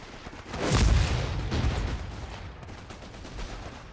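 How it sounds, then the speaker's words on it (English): Gunfire and a heavy blast ring out in the Company of Heroes 3 war game, with a loud burst of shooting and a booming impact up front that fades into scattered distant shots. "They're shooting at you!"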